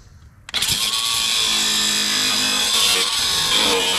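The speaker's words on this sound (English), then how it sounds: "we're going to be using a grinder and a cutoff wheel" Angle grinder with a cutoff wheel cutting through a metal backsplash on an overland trailer spare tire carrier table, spinning up abruptly into a loud, continuous high-pitched screech close by.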